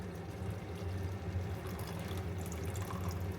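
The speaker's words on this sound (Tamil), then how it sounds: "இப்போது புளி எடுத்து வச்சுருக்கோம்ல, இந்த புளியை இதில் ஊற்றிக்கலாம்." Tamarind water pours into a pot of cooked chickpeas for a spicy, sour masala snack, a soft continuous trickle heard up close at low volume.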